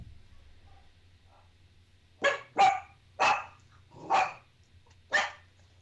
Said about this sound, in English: the Jawa sounds like a dog. It's real yappy.